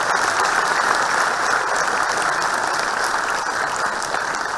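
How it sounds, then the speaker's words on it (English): Steady applause from a seated audience at a morning gathering of retirees, a dense continuous patter of many hands filling the room without pause. "And your claps also not befitting to the size of this."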